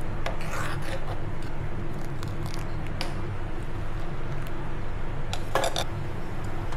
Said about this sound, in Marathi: कढीला ना मी हे बघा मिक्सच करत राहायचं